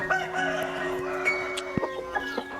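A rooster crows close by, its drawn-out call ringing over a busy yard with scattered clucks and knocks, and no voices.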